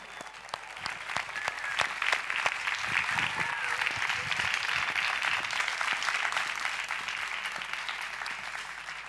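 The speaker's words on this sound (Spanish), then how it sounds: "Por favor, Sara García Alonso, la recibimos con un aplauso." An audience at a regional cancer-patient congress bursts into sustained applause welcoming a reserve astronaut to the stage, a dense, even clapping that holds steady throughout.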